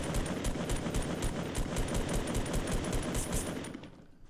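Rapid automatic gunfire in Fortnite Battle Royale, a steady stream of loud, evenly spaced shots for about three and a half seconds before cutting off into quiet.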